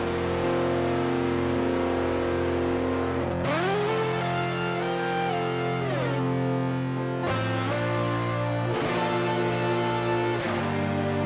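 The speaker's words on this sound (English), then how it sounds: "We've got loads and loads of gain with the compressor and with the fuzz pedal." Electric guitar played through a hexaphonic candy fuzz pedal with a compressor, thick sustained distorted chords that shift and slide in pitch in several loud sections, without any talking.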